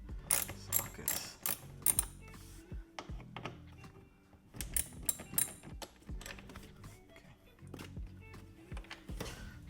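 A ratchet fitted with a small 8 mm socket loosens a bolt on a Ford Fiesta ST shifter during a short shifter install, with rapid close clicking bursts separated by pauses.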